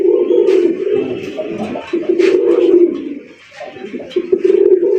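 Rajgolla pigeons, sky-blue coloured, coo steadily in low, rolling, throaty calls that continue almost without a break, close and fairly loud, with a short dip near the end.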